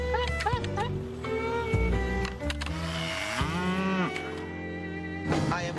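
A cow moos in long, drawn-out calls, loud and close, with overlapping harmonic lowing that rises and falls across several seconds, and a brief voice near the end.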